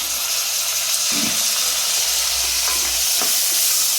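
Onions, green chilies and tomatoes sauté in a hot pan, giving a steady close sizzle and hiss with a few scraping stirs, alone without talk.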